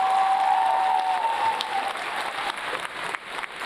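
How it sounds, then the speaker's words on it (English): A high school graduation crowd applauding, dense sustained clapping from many hands filling the room, steady and loud throughout and tapering slightly at the end. "Let's put our hands together again for our Val and Sal"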